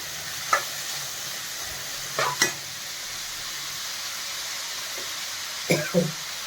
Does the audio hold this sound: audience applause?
no